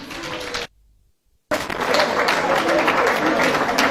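A live audience breaks into broad applause for the leading St. Augustine's College team at a school quiz contest. Dense, sustained clapping is cut by a short gap, then swells back loud and steady.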